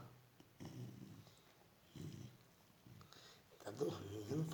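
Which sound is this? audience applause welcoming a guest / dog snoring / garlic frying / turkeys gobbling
dog snoring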